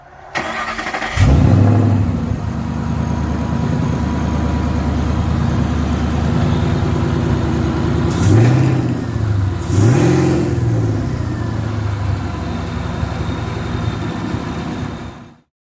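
A 2011 GT with a VMP Gen 3R supercharger starts up close by, settles into a loud, lumpy idle, then gets two sharp revs that swell and fall before the engine cuts off.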